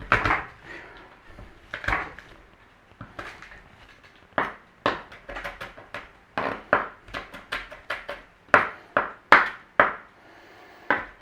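Garlic being minced with a knife on a wooden cutting board: sharp, distinct chops that start sparse and irregular, then build into a faster, steadier rhythm of close, crisp knocks, with no talking.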